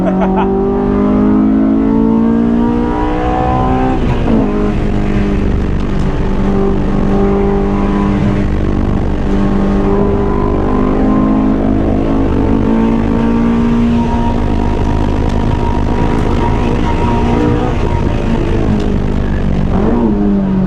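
A Honda S2000 AP2 track car driven hard on a circuit, its engine droning loud and steady from inside the cabin, rising and falling in pitch through shifts and revs with hardly a break.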